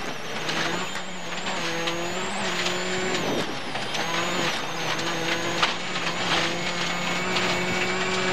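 A Skoda rally car with a 5-speed gearbox runs flat out in fifth gear at around 120 on a rally stage. Its engine holds a loud, steady, high-pitched drone with strong tonal harmonics, close and continuous throughout.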